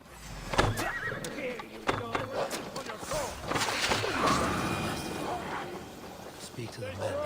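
A horse neighs and whinnies in the game Assassin's Creed Valhalla during the Siege of Paris, with hoof clip-clops, thuds and game voices talking over it.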